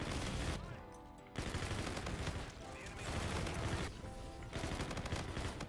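Submachine gun fire in a Call of Duty match, rapid automatic bursts rattling close and loud in several strings with short pauses between, layered over game noise with a player's voice talking.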